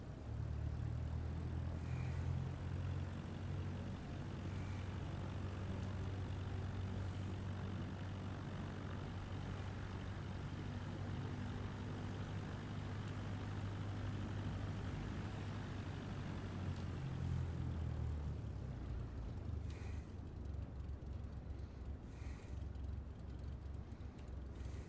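A Cessna's propeller engine in Flight Simulator 2024 drones steadily during takeoff from runway 07, a constant low roar that eases slightly near the end, with no voices.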